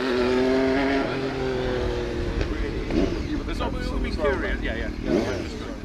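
A Triumph Daytona 675 motorcycle engine running nearby, a steady mid-pitched drone with slight rises in revs, while people talk close by over it.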